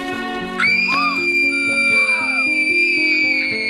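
A girl in a film about an adopted child screams as the ribbon is pulled from her necklace, a long sustained shriek that starts high and holds loud over background sound after a short lead-in.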